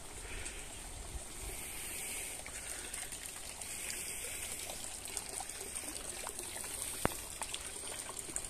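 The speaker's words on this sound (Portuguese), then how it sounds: "Chuvarada danada aí." Heavy rain falls in a garden planted with acerola, pigeon peas and beans, a dense, steady hiss of water with faint trickling and scattered drips throughout.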